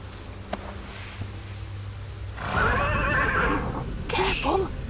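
Horse in the video game Pillars of the Earth neighing loudly after being petted, a long rising and falling whinny over low rustling, with a short snort near the end, close and clear.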